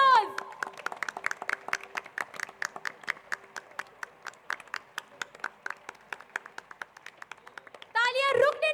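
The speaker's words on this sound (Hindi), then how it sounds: "Give them a huge round of applause." An audience at a school annual concert claps for the grade 11 backstage management team, in steady, evenly spaced beats throughout. A voice speaks over the hall's PA near the end.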